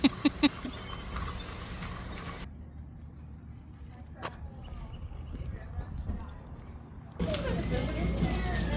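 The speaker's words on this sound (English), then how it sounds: "Horse-drawn carriage." Hooves of a horse pulling a carriage clop in a few sharp strikes at the start, then fainter steps and creaks continue under a steady outdoor background before louder road noise returns.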